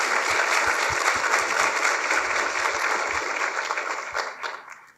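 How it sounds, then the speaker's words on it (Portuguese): Audience at a Harvard talk applauding, a steady patter of many hands clapping at moderate distance that holds for several seconds and then fades out. "se aplausos houver, eu aplaudo, são os alunos de Harvard"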